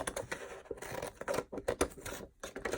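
Scissors snipping through paper for a handmade journal spine, a quick series of close crisp cuts and rustles in irregular bursts, with no talking.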